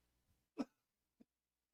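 A single short cough-like burst, fairly loud and close, followed by a fainter brief throat sound and a tiny trailing click in an otherwise quiet room.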